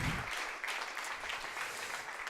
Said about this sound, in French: On peut applaudir Vincent, en effet